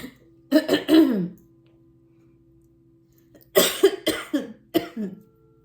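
Two bursts of coughing close to the microphone, a few harsh coughs, a long silent gap, then several more in quick succession.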